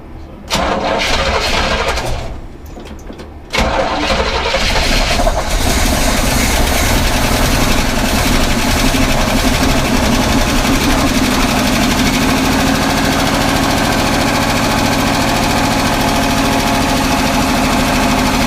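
A barn-find Cadillac Coupe DeVille engine, sitting unused for 25 years, cranks, falters briefly, then catches and settles into a loud, steady, rough-running idle close by.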